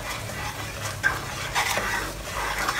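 Oyster sauce and sugar mixed in a wok for fragrant fried chicken: a close, continuous bubbling sizzle with a couple of sharp spatula scrapes against the metal, no talking.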